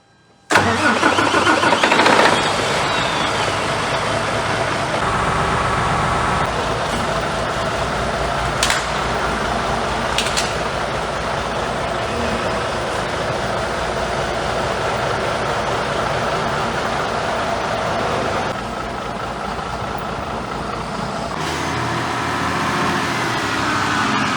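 A Mercedes Actros truck diesel engine, freshly rebuilt after heavy oil consumption and with one cylinder seemingly running unevenly, cranks and starts with a loud burst, then runs at a steady rumbling idle close by, easing slightly later on.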